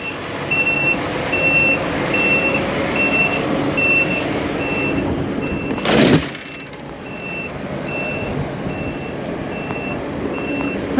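Truck backup alarm beeping at a steady rhythm, clear and fairly near, while a large truck reverses at a multi-truck wreck scene; a brief loud burst of noise cuts in midway over a continuous engine rumble.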